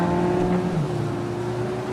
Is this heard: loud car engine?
yes